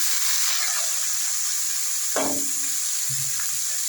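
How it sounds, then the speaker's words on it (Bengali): Cabbage fries in a little oil in a kadai, a steady close sizzling hiss with a single scrape of a spatula partway through. "প্রথমেই বাঁধাকপিটা ভেজে নেব"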